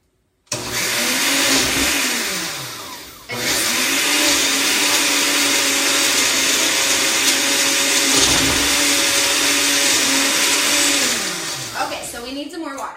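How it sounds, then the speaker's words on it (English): An old kitchen blender blending a smoothie whirs loudly and steadily for several seconds, with a brief dip in pitch partway through before it winds down at the end. "Okay, on, and then we're gonna blend it up."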